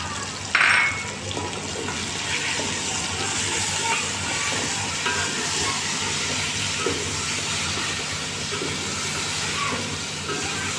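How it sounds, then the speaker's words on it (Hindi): Garlic, ginger and green chillies fry with chickpeas in a pan, giving a continuous loud hissing sizzle that holds steady throughout, with a brief clatter near the start. "लहसुन अदरक और हरी मिर्ची ये हम शामिल करके अच्छी तरह से भून देंगे।"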